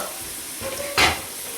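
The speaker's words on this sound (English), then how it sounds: "I'm going to saute this" Onions with salt and jaggery sauté in a pan under a steady soft sizzle, and a single louder scrape of the spoon stirring cuts through near the end.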